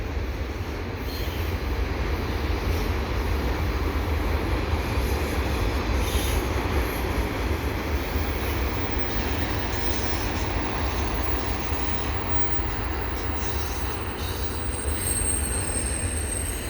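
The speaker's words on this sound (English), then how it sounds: "That's the end of the train there" A long CN freight train of railroad cars rolls past nearby with a continuous loud rumble, steady wheel noise and high squealing from the rails, without any talk.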